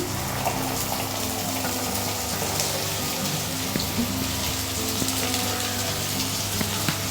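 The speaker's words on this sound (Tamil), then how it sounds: "பீன்ஸ் சேர்த்துட்டு இப்போ இது எல்லாத்தையும் நல்லா வதக்கிடலாம்." Steady sizzling hiss of green beans sautéing in a hot pan, continuous and close, with faint crackles and no talking.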